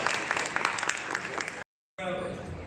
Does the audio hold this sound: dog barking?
no